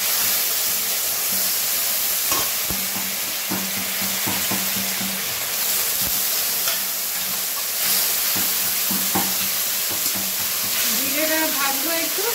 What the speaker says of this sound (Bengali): এটা ভাজবো, ভেজে নিয়ে বাকি আর কিছু কিছু মশলাগুলো আছে সেইগুলো দেবো। এবারে দিয়ে দেবো জিরেটা